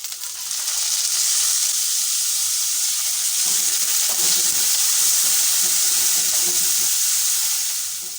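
Green chilies and boiled chickpeas hit hot oil in a pan while making a shell-shaped snack, giving a loud, steady, close sizzle that runs without a break and with no talking.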